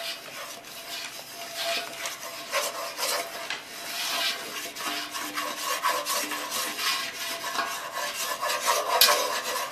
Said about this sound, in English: I'm going to put the flour in, and then we start stirring